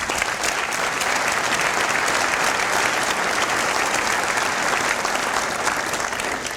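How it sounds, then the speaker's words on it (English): A large commencement crowd at a dental school graduation applauds the graduates' parents, dense, loud, sustained clapping filling the hall without a break. "Let's have a round of applause for their parents."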